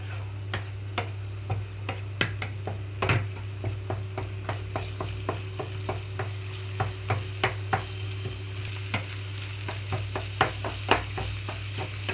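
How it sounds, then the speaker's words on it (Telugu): Carrot and egg fry in a pan as a spatula stirs them, making a steady run of light tapping and scraping clicks over a low background hum and soft sizzle, with no speech. "మొత్తం కూడా కలిసేలాగా చూసుకుంటున్నాను ఎగ్ అంతా కూడా"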